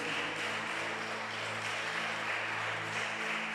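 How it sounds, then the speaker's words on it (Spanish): A church congregation claps as an offering of praise, a steady wash of applause sustained throughout, heard at moderate distance without speech. "Puedes darle una ofrenda de palmas al Rey de Reyes y Señor de Señores."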